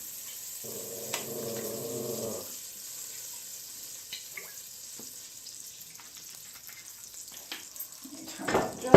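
Butter and olive oil heat in a pan for roasted corn soup, giving a faint, soft sizzle over quiet kitchen background with a brief humming tone early on and a few small clicks and knocks.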